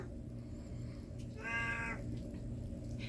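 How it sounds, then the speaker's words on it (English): A cat meows once into her water dish, giving a hollow, echoing tone, moderately loud and close over a steady low background hum. "She's meowing in her water dish, so it echoes."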